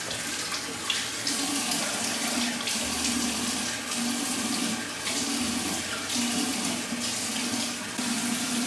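Tap water runs steadily as something is rinsed off at a sink, a continuous close rushing splash with small shifts in flow and no talking.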